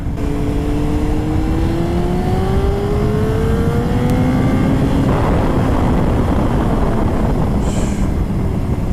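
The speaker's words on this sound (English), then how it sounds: "This thing accelerates great." A 2002 Honda CBR954RR motorcycle accelerates, its engine note climbing steadily in pitch under a constant loud roar of wind, with a slight drop before it climbs again.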